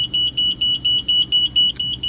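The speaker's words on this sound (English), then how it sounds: "That's just going to beep at us and tell us very little" A farm generator's battery-powered control panel sends out a steady run of electronic beeps, about eight short, evenly spaced pulses, loud and close with no talk over them.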